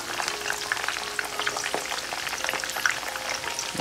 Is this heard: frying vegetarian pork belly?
yes